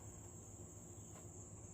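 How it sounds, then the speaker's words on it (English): Cicadas call in a steady, continuous high buzz, faint and distant in a quiet backyard with a low rumble beneath, no talk. "The cicadas are hollering."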